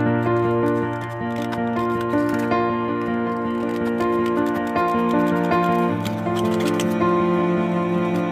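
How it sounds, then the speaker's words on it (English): Scissors cutting closely around a stamped paper butterfly, heard as faint, irregular small snips and paper rustles under a loud, steady layer of background music. "I'm going to fussy cut around my butterfly."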